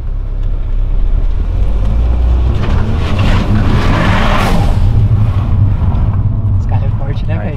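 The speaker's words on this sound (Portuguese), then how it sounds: "Esse carro é forte, o bagulho cantou de primeiro e segundo" Volkswagen Jetta TSI accelerating hard from inside the cabin, a loud steady engine roar building continuously with road noise throughout, and people talking over it; tire squeal is not distinct.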